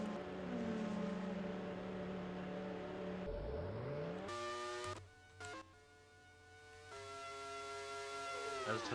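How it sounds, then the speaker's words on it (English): Race cars in an ARWS Japanese Grand Prix racing game, with loud engine whine rising and falling through gear shifts as several cars pass and accelerate out of the pit stops. "a lot of cars here making their final pit stops"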